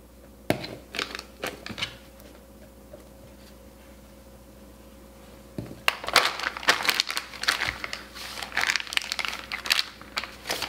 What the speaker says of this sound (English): This goes now into a piping bag.